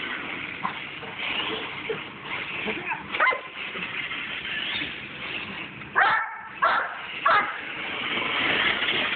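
A dog gives several short yips and whimpering barks in quick bursts, fairly close, over a background of low rustling noise.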